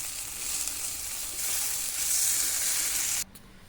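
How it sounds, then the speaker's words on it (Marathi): Puffed rice dhokla fries in a pan with a soft, steady sizzle and light crackle that swells slightly midway, then cuts off abruptly just before the end. "छान 5 मिनिटं भाजून घेऊ."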